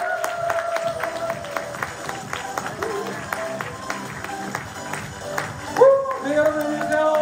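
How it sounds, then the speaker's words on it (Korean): Seminar audience in Korea applauding to welcome a speaker to the stage, a busy clapping wash mixed with loud background music and brief crowd noise. "사장님 박수로 모시겠습니다"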